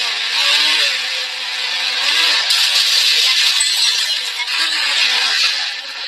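A Mahindra Thar rolls downhill, its engine giving a steady mid-pitched hum mixed with broadband road and wind rush, fairly close and continuous with no talk.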